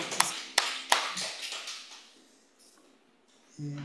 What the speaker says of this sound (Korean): 우리 예배를 받으신 하나님께 감사와 영광의 박수 올려드립니다